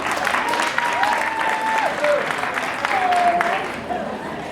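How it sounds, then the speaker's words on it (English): A round of applause at a poetry night, loud and sustained from a close audience, with faint whistles or voices threading through before it thins out at the end. "Round of applause"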